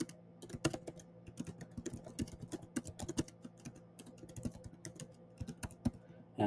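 Keys clatter on a computer keyboard in quick irregular bursts of close, crisp clicks with short pauses between runs, alone without talk.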